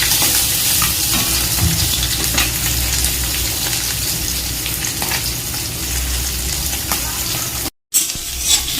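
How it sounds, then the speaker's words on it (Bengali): Mourala fish fry in hot oil in a pan, producing a loud, continuous crackling sizzle with occasional spatters, briefly cut off to silence before the frying resumes. "মাছগুলো আমার ভাজা হয়ে গেছে।"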